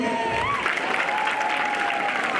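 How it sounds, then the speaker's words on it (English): Audience clapping for a school Law Club performance at a girls' high school, a dense steady wash of applause with a sustained tone running beneath it. "Let's clap for them."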